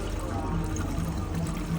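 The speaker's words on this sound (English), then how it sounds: "So now we're solving this problem by adding a little bit of water for now." Water is poured into the coolant reservoir of a Suzuki Jimny, a steady, soft pouring wash with no talk.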